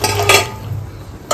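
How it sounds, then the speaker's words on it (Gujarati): Dal is tipped into a cooking pot with a close, brief metallic clatter of utensil against the pot, then a quieter shuffle and another short clink at the end. "ચલો ભાઈ હવે દાળ નાખી દેશું"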